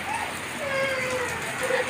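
Heavy rain pours down in a dense, steady hiss of drops striking surfaces, loud and close, with no break over the short stretch.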